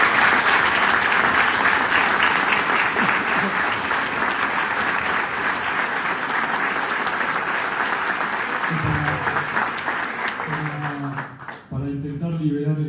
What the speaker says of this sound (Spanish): Muchas gracias y un fuerte aplauso a Gabriel Valerini